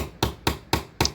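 A small brass hammer taps bamboo pins into a samurai sword, four crisp, evenly spaced knocks close up with short pauses between them.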